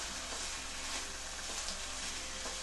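Turkey seasoned with red pepper and sausage seasoning sizzles and fries in a pan, a steady close crackle with soft stirring and no talk.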